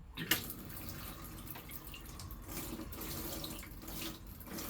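Hot water running from a kitchen tap in a 2012 Swift Challenger 480 caravan, a steady close splashing stream with a brief knock near the start.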